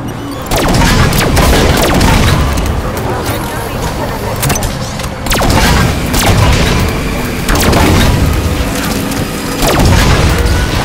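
Rapid gunfire and heavy booms from the Halo 5: Guardians game while the pulse generator is shot, loud and continuous in bursts with brief gaps, under game chatter.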